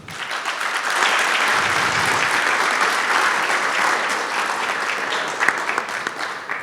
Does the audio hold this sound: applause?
yes